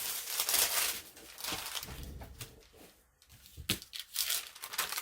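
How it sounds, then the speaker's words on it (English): Thin onion skin or typing paper being torn by hand into chunks, a series of close, crisp ripping and crinkling bursts with brief pauses between tears. "I think this is onion skin or typing paper or something like that. But I want to just tear it up into some chunks."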